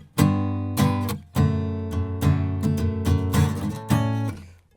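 Acoustic guitar strummed in chords voiced without the fifth, a sequence of bright rhythmic strums with sharp attacks and short ringing decays, played close and alone in a repeating pop-rock pattern.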